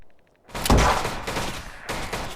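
Gunfire in the bunker survival game Misery: a sharp nearby burst of shots after a brief electronic beep, then rattling echoes and another crack, with no talk.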